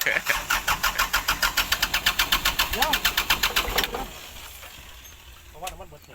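A Kubota L708 tractor engine chugs in fast, loud, rhythmic pulses for about four seconds, then stops, leaving quiet background with a few faint voices.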